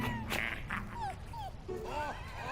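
Puppies in the Minecraft Story Mode Season 2 video game whimper, whine and yip in a run of high, sliding cries over a steady background of game sound.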